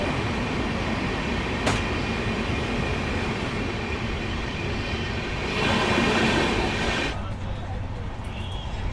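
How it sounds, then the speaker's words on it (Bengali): A train arriving at Mecheda railway station rumbles loudly and continuously from on board, with a sharp clank and rising wheel noise before the roar eases, and voices faint beneath. "ট্রেন আমাদের এসে পৌঁছালো মেচেদা রেলওয়ে স্টেশনে।"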